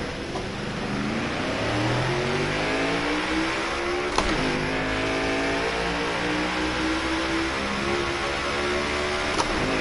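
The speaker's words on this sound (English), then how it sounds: "Go ahead and turn this engine down a little bit, it's pretty loud." A loud race car engine at Darlington revs and drones steadily, pitch sweeping up and down as it runs, with a couple of sharp clicks.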